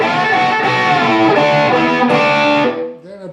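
Distorted electric guitar plays an outro lead lick, sustained bent notes in a continuous loud phrase that ends with a bend and fade, no talking.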